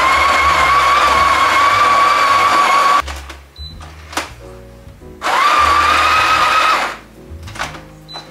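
A coffee grinder whirs loudly and steadily as it grinds beans, runs for about three seconds, then stops. After a pause with clatter and clicks it runs again for a second burst. The sound is close, with no talking.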